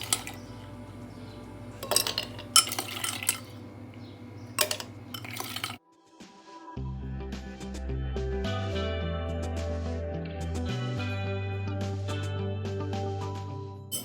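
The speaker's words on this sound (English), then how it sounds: "now we'll add in some ice cubes." Ice cubes clink and rattle into a glass for a cucumber mojito, several sharp bright knocks in the first few seconds, followed by a steady low background with faint clinks.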